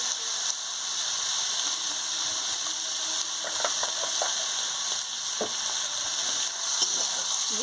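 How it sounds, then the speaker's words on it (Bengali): Shrimp and pumpkin leaves frying in mustard oil, a constant soft sizzle with occasional stirring scrapes and clicks of a utensil in the pan, no talking. "দিয়ে ভালো করে কষে নিচ্ছি। কাঁচা সরষের তেল ছড়িয়ে দিচ্ছি,"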